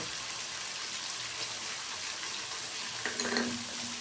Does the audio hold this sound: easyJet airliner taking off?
no